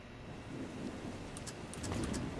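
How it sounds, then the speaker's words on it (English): Rain pours steadily during a storm in Valkyria Chronicles 4, with a low rumble of thunder and a few sharp cracks near the end. "Storm is knocking down trees."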